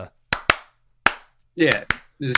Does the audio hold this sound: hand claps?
yes